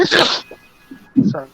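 A single loud, close sneeze bursts out at the start of a tabletop role-playing session, followed by a short pause and then brief talk.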